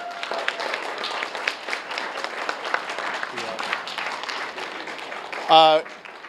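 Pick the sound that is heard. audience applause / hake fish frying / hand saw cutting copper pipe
audience applause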